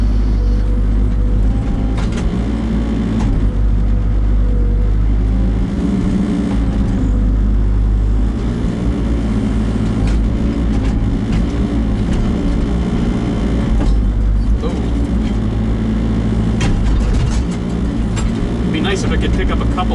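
Kubota KX121-3 mini excavator with a diesel engine held at low RPM while sorting stones, giving a steady, loud low drone with clanks and knocks rising over it throughout.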